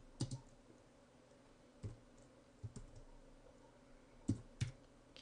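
Clicks of a computer keyboard while someone enters image titles and alt text, sparse isolated keystrokes and short bursts, close and fairly quiet, with no talking.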